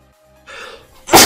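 A single sneeze, a brief breathy intake followed by a sharp, loud, noisy burst at close range, then silence.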